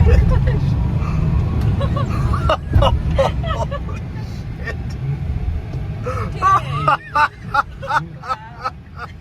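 A Tesla Cybertruck launches hard from a standstill, its low electric-drive rumble and road noise building beneath excited chatter and shouting from the occupants, then easing off as they react.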